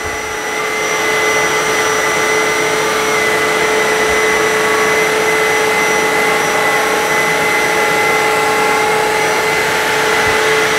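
Two wet-dry vacuums, a Kenmore HF5010 and a Bissell Crosswave Max 2554A, run together close by, giving a loud, steady motor whine with sustained tonal hum, starting up in the first second and holding constant.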